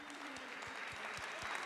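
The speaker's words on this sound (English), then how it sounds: "One more round of applause." Audience applause at the Roots of Recovery 2023 community event, a steady wash of many hands clapping that fills the short stretch without a break, with faint voices mixed under it.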